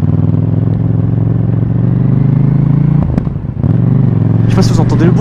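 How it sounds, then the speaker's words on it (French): A KTM Duke 790 motorcycle engine with a stock exhaust rumbles loudly nearby and pops, dropping briefly before revving again, with a voice talking over it toward the end. "elle a un putain de pot d'origine, elle pétarade comme jamais"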